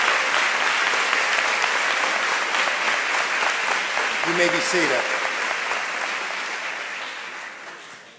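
Sustained applause from an audience at a 2016 high school honors ceremony, honoring students with perfect scores, fills the room steadily and fades toward the end while a voice speaks briefly over it.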